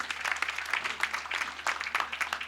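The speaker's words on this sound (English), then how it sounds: "A clap for them as that is handed over." An audience claps for a handover at a World Breast Cancer Day event, a brisk patter of many hands that stays fairly even and moderately close for a couple of seconds.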